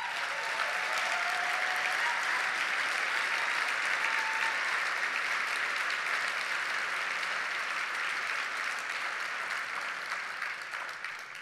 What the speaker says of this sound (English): I really want to give Becky, Joan, and the WEC staff a big round of applause for their heart.